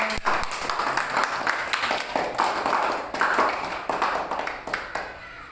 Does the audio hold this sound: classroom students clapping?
yes